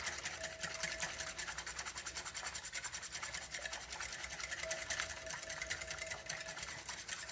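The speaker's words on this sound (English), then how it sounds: "let's mix the sour cream in first. And just sprinkle your pudding in and whisk it." Pudding mix is whisked with sour cream in a bowl, producing a fast, steady, rhythmic scraping buzz that runs throughout at low volume.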